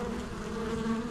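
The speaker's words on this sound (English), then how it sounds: "carpenter bees are fighting with the honeybees" Carpenter bees and honeybees fight around a beehive in a bee yard, giving a close, dense, continuous buzzing drone with a steady hum throughout.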